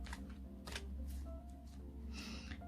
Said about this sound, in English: So these are a little bit difficult to shuffle because of the shape of them